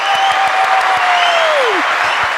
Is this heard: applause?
yes